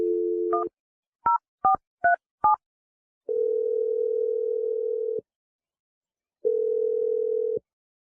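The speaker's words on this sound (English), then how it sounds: "I'm going to dial Dave's phone number" Telephone keypad tones beep as a short series of dialed digits, followed by two long, steady ringback tones separated by a pause, clean and alone.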